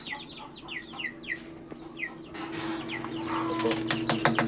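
Chicks in an incubator, peeping in rapid high chirps close by, overlapping against a steady low mechanical hum, growing busier toward the end.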